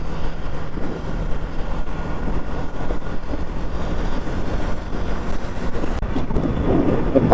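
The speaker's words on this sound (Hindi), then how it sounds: "बहुत जोर से बारिश गिर रहा है भाई, बहुत।" Heavy rain pours during a ride on a Pulsar NS200 BS6 motorbike, a dense, continuous wash of hiss and wind buffeting over a low engine hum, with no pause throughout.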